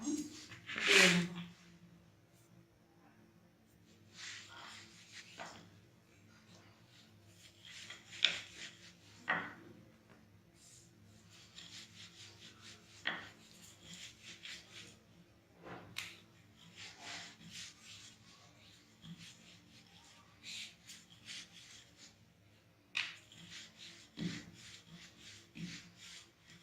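Small balls of flour dough for aloo puri are rolled flat with a rolling pin, giving quiet, repeated rubbing and rolling strokes with occasional light knocks against the board.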